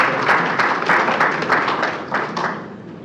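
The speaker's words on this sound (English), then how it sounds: "Please a round of applause for them." An audience at a political party meeting breaks into a short burst of applause, the clapping fairly distant and fading toward the end.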